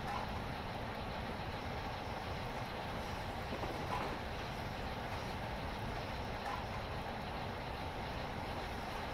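A steady, uniform rumble of a train running in a simulator on the London Kings Cross to Leeds East Coast Main Line route, continuous broadband noise with no pauses, fairly quiet and without talk.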